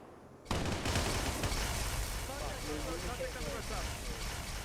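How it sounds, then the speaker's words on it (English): A Shade turret fires during a Halo multiplayer match, a dense, continuous burst of plasma shots layered into loud, busy battle noise that starts abruptly and carries on steadily. "There's that shade turret firing again."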